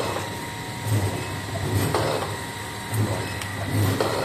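A pump-type liquid filling sachet packing machine runs after start-up. It makes a steady mechanical hum broken by regular soft thumps about once a second, close and continuous.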